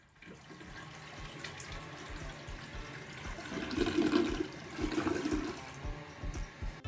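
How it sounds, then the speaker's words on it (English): Water rushing into a toilet tank as it refills after a new flapper is fitted, a soft steady hiss and gurgle that rises in two louder surges near the end. "turn the water supply back on to refill the tank and check if the flapper seals tightly"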